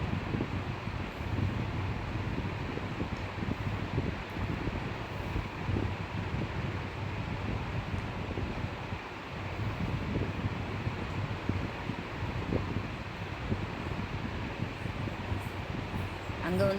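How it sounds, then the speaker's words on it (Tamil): Strong sea wind at Kanniyakumari roars steadily across the microphone in a constant, buffeting rush, with no voices heard. "அங்கே வந்து கடல் காற்று பயங்கரமாக அடிச்சுது. நிற்கவே முடியல, அந்தளவு கடல் காற்று."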